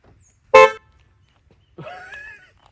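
A single short, loud horn blast from a Kia Forte when the lock button is pressed twice, then a quieter tonal electronic chirp about a second later, both close by with silence around them.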